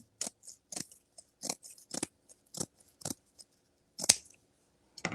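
Scissors snip through poly burlap mesh, cutting it corner to corner: a steady series of crisp, close metallic cuts with rustling fabric, roughly one snip every half second, alone without talk.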